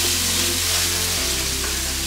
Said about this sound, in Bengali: পেঁয়াজের পেস্ট দেওয়ার পরে আমরা চুলার হিট একেবারে লোতে রেখে এটাকে সুন্দর করে ভাজব।